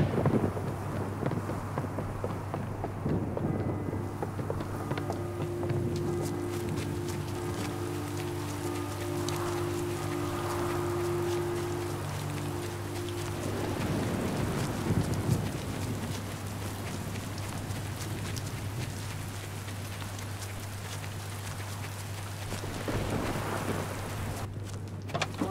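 Rainstorm in the game Last Day of June, a steady hiss of rain on surfaces with low rumbling and a sustained droning tone, loud and continuous, no talk.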